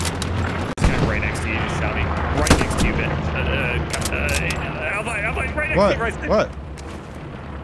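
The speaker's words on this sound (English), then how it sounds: "Machine gun right next to me, dude" Machine gun fire right beside the listener in the Hell Let Loose battlefield game, sharp bursts and booming shots mixed with explosions and distant gunfire, under loud excited talk.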